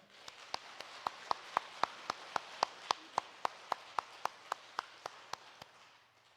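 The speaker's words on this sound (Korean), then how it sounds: "우리 박수로 환영하도록 하겠습니다." A church congregation claps in crisp, evenly timed unison during a Sunday service, about four claps per second, sustained for several seconds at a moderate distance without voices.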